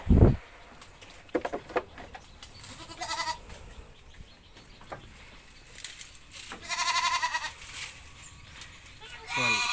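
Sheep bleating in a pen below a raised house on a rainy farm, several overlapping calls scattered through, some close and loud, others fainter, with farm background noise and some human voices.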